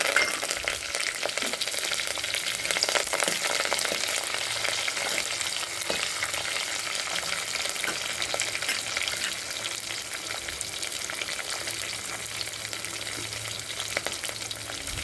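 Two large cut green chilies and curry leaves fry in hot oil for a prawn masala, giving a loud, continuous, close sizzle with faint crackles throughout and no talking.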